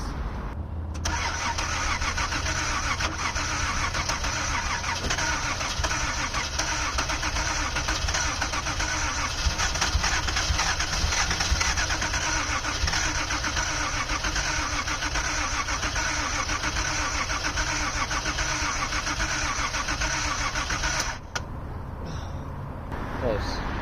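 A 1979 Datsun 280ZX engine with newly replaced fuel injectors runs steadily at a constant idle, loud and close, with a sharp change near the end as it falters.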